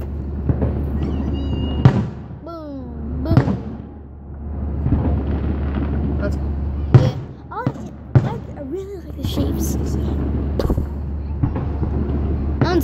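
Fourth of July fireworks bursting outdoors, several loud booms and crackles spread through the stretch with excited people talking and whooping over them.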